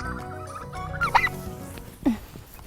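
Turkeys calling over a busy background, with a couple of loud, brief gobbling or clucking bursts near the middle and end.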